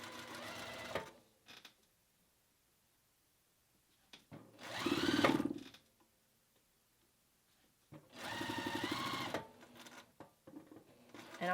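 Home sewing machine stitching a set-in sleeve on a Butterick 6214 garment: two separate close bursts of whirring, rapid stitching, each lasting about a second, with quiet pauses before and after.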